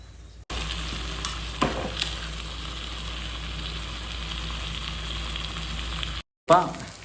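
Fried eggs are stirred in a pan with a little oil for egg pepper dry. A steady close sizzle runs throughout with occasional stirring scrapes, and there is a brief gap near the end.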